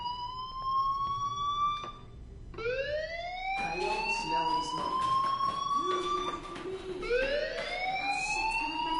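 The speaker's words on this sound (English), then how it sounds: "Hey, do you hear that fire alarm?" A fire alarm wails with rising, sweeping siren tones that repeat in long swells, loud and continuous throughout with faint background noise.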